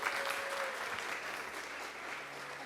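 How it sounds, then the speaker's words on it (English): Audience applause greeting Vitalik Buterin, researcher at the Ethereum Foundation, as he comes up to speak at a conference talk on L2s; a dense, steady wash of clapping from a large crowd, fading slightly toward the end, with no speech over it. "So yeah, let's give him a big applause."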